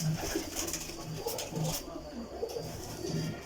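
Pigeons cooing in a loft, a series of low, rhythmic, throaty coos repeating close by over a steady background, with no talk.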